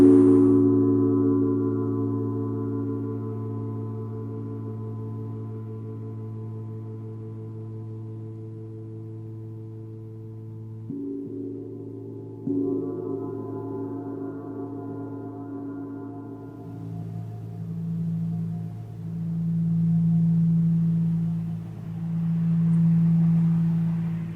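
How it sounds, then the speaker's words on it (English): A sound bath with a gong at The Sukha Life yoga studio: sustained, layered ringing tones hum steadily and alone, a new struck tone entering midway and low swelling pulses rising near the end. "what you're hearing is a sound bath"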